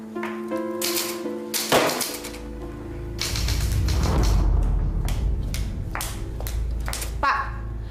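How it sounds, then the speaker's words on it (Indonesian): An old, rickety manual typewriter gives scattered sharp keystroke clacks, some close together and some spaced apart, mixed with other room sounds and tonal noises in an indoor scene. "Mesin tik tua ini penyebabnya. Udah reot, suaranya berisik banget."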